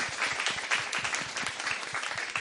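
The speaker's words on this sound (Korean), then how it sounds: "박수로 모시겠습니다." A studio audience at a talk show claps to welcome a challenger, a lively burst of many hands close by, fairly loud and continuous before tapering at the end.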